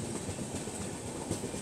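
The Swarn Jayanti Express passenger train runs on rails through Jharkhand, a continuous broad rumble with faint clickety rhythm from the wheels, steady and enveloping, with no voices.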